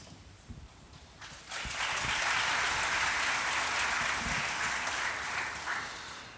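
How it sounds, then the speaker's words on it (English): Audience at a piano concert breaking into applause: a few scattered claps first, then a swell into dense, sustained clapping from a full room that holds steady and begins to thin near the end. "thank you for giving me applause ahead"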